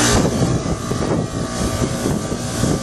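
A 2008 Goodman heat pump outdoor unit running through a defrost cycle in 48°F weather, a loud, close, rough whooshing roar with wind buffeting the microphone.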